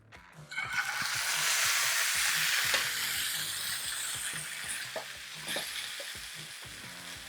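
Steak searing in a lightly oiled pan, a loud steady sizzle and crackle that swells right after the meat goes in and continues with small pops and occasional clinks, no talking.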